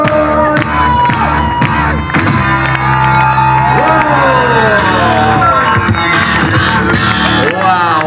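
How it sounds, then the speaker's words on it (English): A street performance crowd on Santa Monica's Third Street Promenade cheers and whoops loudly, mixed with children shouting and scattered clapping over pounding music. "Santa Monica, make some noise."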